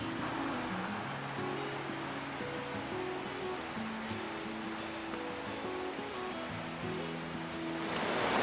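Steady rushing water flows continuously throughout, a broadband wash like a stream or river nearby, with no voices.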